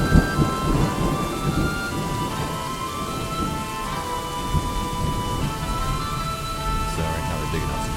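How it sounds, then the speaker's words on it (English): Steady, dense rain with low rumbles of distant thunder from the Dwarf Fortress video game, a continuous wash of sound with faint tonal game music running beneath it. "It started raining. All these things trigger audio to play. So you can see it's playing a rain and distant thunder"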